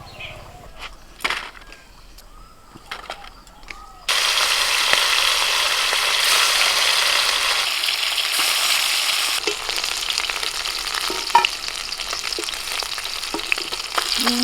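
Fish frying in hot oil, quiet clatter at first, then a loud dense sizzle suddenly erupts and roars steadily for the last ten seconds, with occasional utensil clinks.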